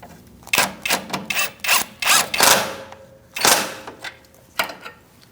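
A wrench tightening the bottom nut of a rear sway bar link on a 2008-2014 Mercedes-Benz C300, with a run of close, loud ratcheting and scraping strokes in an irregular rhythm, separated by short pauses.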